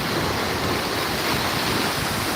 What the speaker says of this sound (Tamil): சரியான வேகமாக ஒரு அலை வந்துருக்குது